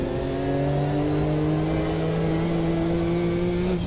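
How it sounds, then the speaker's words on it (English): GT2 race cars on wet tyres roar steadily through a racing video game, a sustained engine drone holding a constant pitch that dips slightly as they slow down, loud and close with no talk. "these GT2s slowing down on the wet tyres"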